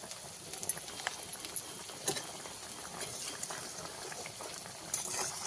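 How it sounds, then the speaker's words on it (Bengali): Thick rohu fish curry with potato and pointed gourd bubbling and boiling steadily in a pot, with small pops and splutters throughout, close and moderately loud. "ঝোলটা ফুটে উঠেছে"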